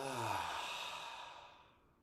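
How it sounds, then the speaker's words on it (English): A deep, audible exhale following a breath in through the nose, close and soft, fading out over about two seconds with no talking. "Taking a deep breath in through the nose and exhale."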